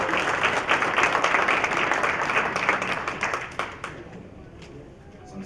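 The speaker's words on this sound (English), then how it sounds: "Let's give her another round of applause." Audience applause after a talent performance at an NAACP installation ceremony, dense steady clapping from a crowd that fades gradually toward the end.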